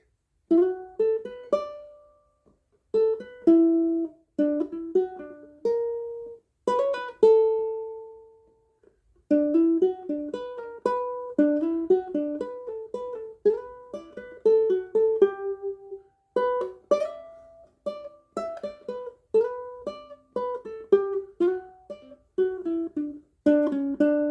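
A ukulele plays the first guitar solo from a song alone, a lively melody of plucked notes in quick runs and bends with brief pauses between phrases.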